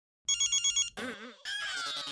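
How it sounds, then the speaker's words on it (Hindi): A mobile phone's ringtone sounds in a short run of evenly spaced beeps, close and clear, followed by a brighter melodic tone. "मेरा फोन बज रहा है"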